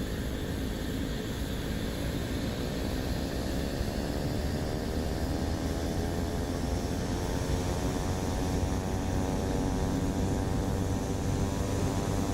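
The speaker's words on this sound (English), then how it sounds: "Window open takeoff just for Thumper" A Boeing 737 taking off in a flight simulator with the cockpit window open: a steady, loud roar of engines and wind, with a faint rising whine layered over it, no voices.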